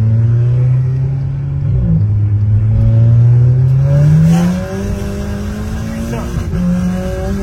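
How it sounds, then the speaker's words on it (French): Turbocharged car accelerating hard, a loud, close engine note climbing steadily through the revs with a shift partway, turbo whoosh mixed in, and a brief spoken exclamation over the noise. "Et en plus, le turbo, qu'est-ce qu'il souffle?"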